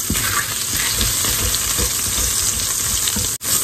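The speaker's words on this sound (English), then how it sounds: "We're going to add in another spoon of ghee. Make sure you scrape up the bits off the bottom." Beef tips fry in ghee with a loud, close, continuous sizzle and crackle, and a spoon scrapes the bottom of the pan; no one speaks.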